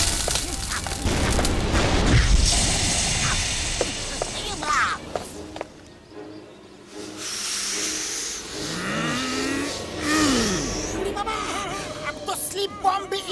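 Cartoon sleep bombs fire in a burst of booms, hisses and whooshes, with a brief lull midway before more zaps and swooping effects return, all loud and close under excited animated voices.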